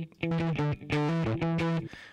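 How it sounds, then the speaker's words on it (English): Electric guitar track run through a Waves Manny Marroquin distortion plug-in, playing a short melodic phrase of sustained, gritty notes in three bursts, loud and up close with no talking over it. "Moving on, actually, is the distortion, and we'll stay on that same guitar track."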